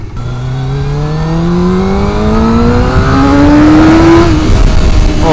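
An old two-stroke motorcycle with a carbon exhaust can climbs into its power band, the engine note rising steadily in pitch and loudness into a loud, sharp wail before levelling off.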